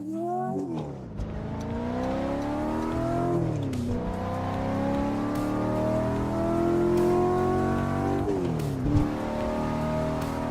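A car engine in the racing game Assetto Corsa, driven on a No Hesi server, revs up through the gears in three long climbing pulls, each broken by a quick shift, loud and close with no talking.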